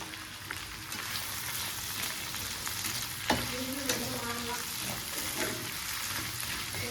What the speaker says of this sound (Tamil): இப்போ நம்ம வதக்கிடலாம்.